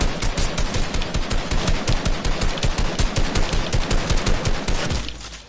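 Dense rapid gunfire from the video game Fortnite fills the clip. The volleys are loud and continuous, then cut off abruptly near the end.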